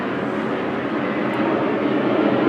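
Steady broadband roar of an airplane passing overhead on an airport flight path, continuous and fairly loud, swelling slightly toward the end, with no voices.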